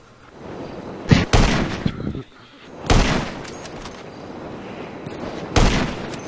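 Sniper gunfire in Grand Theft Auto V, heard as loud, well-spaced booming shots separated by stretches of rumbling game noise.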